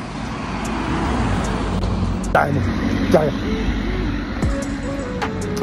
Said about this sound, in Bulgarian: Много опасно този трафик.